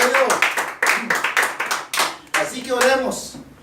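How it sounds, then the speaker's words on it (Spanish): A church congregation claps in short ragged bursts, several rounds of hands starting and fading, with a preacher's voice and shouted praise mixed in between and over the clapping. "Denle fuerte aplauso al Señor."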